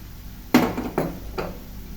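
Three quick metallic scrapes of a spoon stirring onion, turmeric, chilli and coriander powder into ridge gourd in a pan for thokku, each stroke short and close with quiet gaps between.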